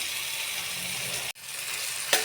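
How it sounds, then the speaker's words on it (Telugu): Ginger-onion paste fries in hot oil with browned onions, a steady, close, dense hiss of sizzling with a brief dip and a short sharp crackle near the end, no voices. "ఉల్లిపాయలు కొంచెం కలర్ వచ్చిన తర్వాత అల్లం ఉల్లిపాయ పేస్ట్ వేస్తున్నాను"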